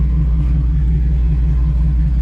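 An old truck engine idles steadily nearby, a loud, constant low rumble with a throbbing pulse and no change in speed throughout.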